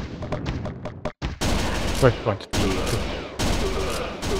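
Pistol shots fire in quick bursts in the arcade shooter Virtua Cop 2, loud sharp cracks repeating across the clip while someone talks excitedly over them.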